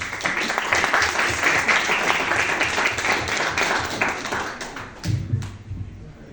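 Audience applause at a concert of medieval Spanish music, a dense sustained clatter of many hands, loud and fairly steady before thinning out near the end.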